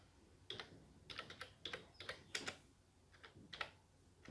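Someone types on a computer keyboard in short irregular bursts of crisp key clicks, quiet and close, with no talking.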